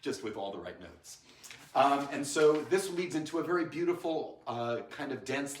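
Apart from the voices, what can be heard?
No distinct noise like a dog, phone or traffic.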